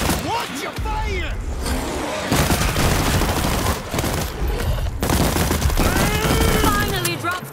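Rapid automatic gunfire fills a co-op World War Z Aftermath zombie shooter battle, continuous dense bursts and booms with shouted voices over the shooting.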